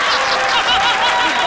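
Studio audience clapping at a comedy show, a short dense burst of applause with a bit of laughter mixed in, loud and close.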